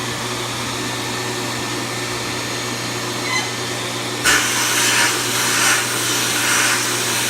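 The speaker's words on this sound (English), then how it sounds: "I've got to put it in the blast cabinet first to remove all that rust." A blast cabinet strips rust from a brake caliper piston. A low motor hum runs steadily, then a loud hissing rush of abrasive blasting bursts in about halfway through and carries on in surging waves.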